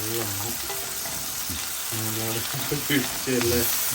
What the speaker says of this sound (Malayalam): ഇത് പാനിലെ ജ്യൂസ് മുഴുവൻ ആ സോസിലേക്ക് ഒഴിച്ചു കൊടുക്കുക